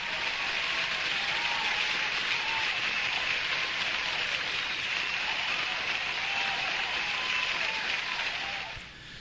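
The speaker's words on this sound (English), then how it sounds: "I think that deserves a round of applause." Steady, dense applause from a studio audience honoring a guest's birthday on a comedy talk show, sustained at even loudness for nearly the whole stretch before tapering at the end.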